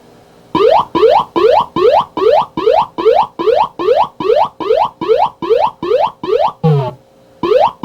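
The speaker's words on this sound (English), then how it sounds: "cut it on in test mode, and we'll see if it's got any beeps or boops" A Star Wars arcade circuit board beeps in test mode: a long, loud, evenly spaced series of rising electronic chirps, then a lower tone, a pause and another chirp, with no voices.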